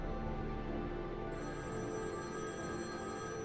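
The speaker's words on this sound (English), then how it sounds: "Just as we're leaving, the phone rings." In a video game, a telephone rings with an electronic bell tone that holds steady and fairly quiet over a dense background of game music and ambience.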